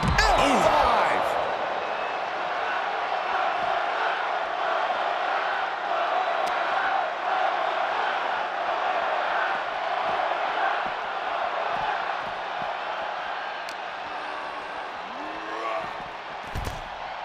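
Arena crowd roaring and cheering during a WWE 2K24 wrestling match with Brock Lesnar and John Cena, a steady loud swell of massed voices with a sharp hit at the start and a few slams and shouts near the end.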